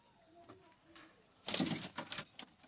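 Crossbred wild-breed pigeons coo softly on a rooftop loft, the faint low calls followed by a louder, brief flurry of rustling and fluttering.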